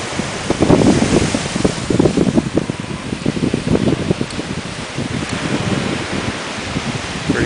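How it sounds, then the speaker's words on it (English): Surf and wind at Lanikai Beach, Hawaii, a constant close wash of waves with gusty wind buffeting the microphone, loud and steady throughout with no voices. "We are on Lanikai Beach"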